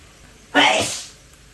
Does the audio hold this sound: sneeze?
yes